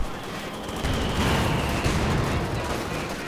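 Bazooka blast in a World War II strategy game, a loud booming rush of noise over a dense background of battlefield gunfire.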